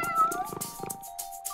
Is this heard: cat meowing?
yes